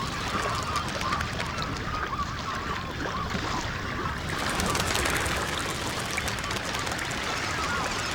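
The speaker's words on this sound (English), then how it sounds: "scare great flocks of red-billed whistling ducks whose wing beats sound out over the swamps every day at dawn" A flock of red-billed whistling ducks calls over a swamp at dawn, with dense continuous chatter and rustling wing beats filling the air without a break.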